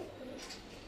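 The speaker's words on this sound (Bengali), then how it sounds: "তো এই সেই পায়রাগুলো, এর মধ্যে কিছু সবুজ পায়রা আছে" Pigeons, including green pigeons, coo softly in a low, throaty murmur, faint and close, with a brief higher chirp partway through and no voices.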